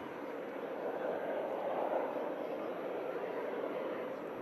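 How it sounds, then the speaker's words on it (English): Emirates Airbus A380 jet airliner departing Manchester Airport, a faint distant steady engine rumble that swells slightly in the middle. "Emirates Airbus A380, one of the most colourful"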